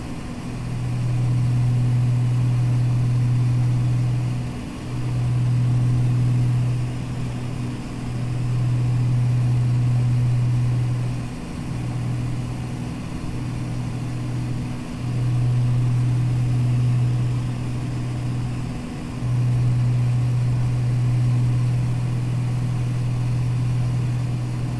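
A multi-engine aircraft cruising on a single engine in a flight simulator game gives off a loud, steady low engine drone with a constant hum, its level dipping briefly every few seconds and then resuming, with no voices.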